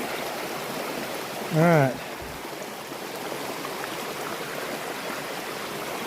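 Stream water flowing at a trail crossing on the Appalachian Trail, a steady rushing babble close by, with a brief spoken phrase over it.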